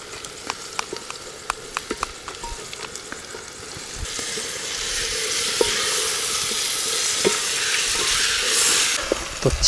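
Chicken frying in a pan with biryani masala at a winter mountain campsite, a steady loud sizzle swelling after a few seconds, with scattered clicks and stirring scrapes early on.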